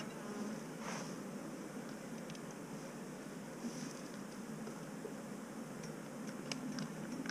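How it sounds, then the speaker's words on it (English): Honey bees buzz steadily around a nuc hive fitted with beetle traps, a dense continuous drone with occasional louder passes of individual bees close by. "These bees are aggressive enough to chase out the beetle problem."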